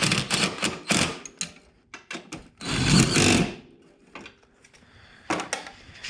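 Bolts on a Honda accelerator pedal position sensor are tightened with a hand tool, giving a run of quick, close ratcheting clicks in irregular bursts with short pauses between them, with no talk.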